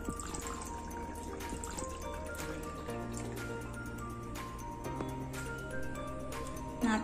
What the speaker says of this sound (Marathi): ह्याच्यामध्ये आपण पाणी घालूया.